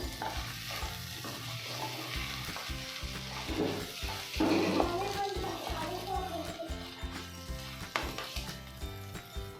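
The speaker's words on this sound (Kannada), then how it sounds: "ಸ್ವಲ್ಪ ಕೊರಿಯಾಂಡರ್ ಲೀವ್ಸ್ ಹಾಕ್ಕೊಂಡು ಮಿಕ್ಸ್ ಮಾಡ್ಕೋಬೇಕು" Capsicum palya being stirred and fried in a pan, with a steady soft sizzle and repeated scraping spatula strokes close by, while a voice talks faintly in the background.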